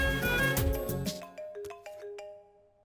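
Phone ringtone chiming on a call in a Hindi film scene, a bright melodic burst that fades into a few sparse ringing tones and then trails off.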